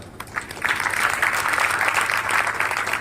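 Audience clapping at a church gathering, a steady, dense patter of hands that rises quickly and holds for about three seconds.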